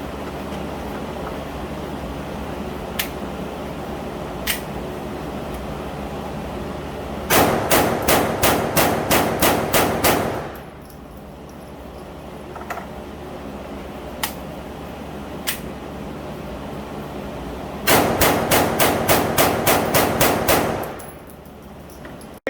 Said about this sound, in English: we're going to test fire the Glock 44 using the cheapest ammo I have